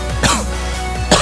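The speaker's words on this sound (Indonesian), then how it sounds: "Parah banget ini batukku." A person with a bad cough coughs twice, with short harsh bursts separated by a pause, close and fairly loud.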